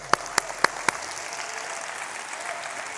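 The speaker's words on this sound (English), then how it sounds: "Let's clap for that." Audience clapping to close a Trappin' Tuesday episode, opening with four sharp, evenly spaced single claps up close, then a softer sustained patter of many hands.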